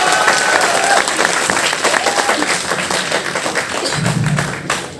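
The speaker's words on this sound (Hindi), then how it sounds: "एक बार जोरदार तालियां हो जाए।" Dense audience applause at an open mic event, many hands clapping continuously, loud and close, slowly thinning toward the end with some crowd murmur.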